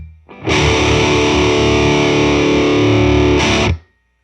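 A rock lick on electric guitar with heavy distortion rings out loud and sustained for about three seconds, then a second struck chord briefly cuts in before fading; no voices.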